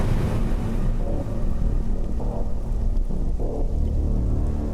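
Steady rain in the rainy season at night, a dense broadband wash of falling water that stays loud and even throughout, with a low rumbling undertone and no voices.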